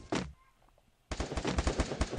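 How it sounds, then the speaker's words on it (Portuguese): Gunfire in the battle-royale game Free Fire: a single sharp shot, a short lull, then a rapid close burst of automatic fire. "O cara atirou em mim, né?"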